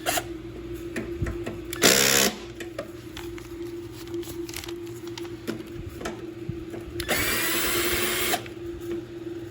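A power tool loosening a 3/8 bolt whirs in two short bursts, a brief spin and then a longer one, with quiet clanking and handling noises between.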